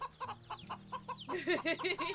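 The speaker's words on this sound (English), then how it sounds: "Hi, chickens. You're very loud." Chickens in the video game Wytchwood cluck loudly in quick, repeated bursts, growing denser and louder after a short start, over a low steady background tone.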